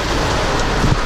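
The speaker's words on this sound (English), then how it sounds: "we got rained out because it's raining" Steady rain pours down in a loud, dense hiss with no pauses, heard up close.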